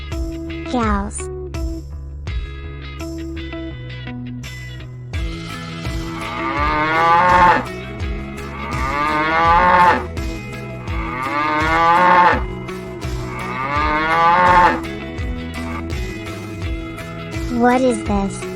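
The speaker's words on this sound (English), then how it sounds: "Cows." Cows moo repeatedly in long, loud, drawn-out calls spaced a few seconds apart, layered over a children's nursery rhyme song with music and singing.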